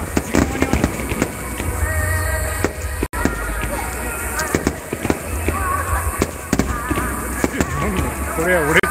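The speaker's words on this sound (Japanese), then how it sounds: "ここの花火大会、いつも8月7日にやってるから。" Fireworks at a summer fireworks festival in Japan crackle and pop in rapid bursts with occasional louder booms, heard from among a crowd while people talk nearby.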